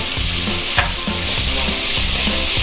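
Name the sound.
stirring chicken and capsicum mixture in a pan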